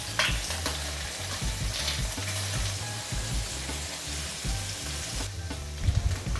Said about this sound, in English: Cook the prawns on medium heat until both sides get a nice golden pink or orange color.